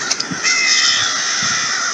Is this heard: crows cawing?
yes